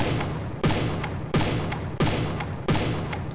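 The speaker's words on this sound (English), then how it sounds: "I can hear the click. It's just reloading as the cannon is preparing to fire." Cannon in the From the Depths video game firing repeatedly, four heavy sharp blasts at a regular rhythm about two-thirds of a second apart, with faint reload clicks between shots over a loud mechanical hum.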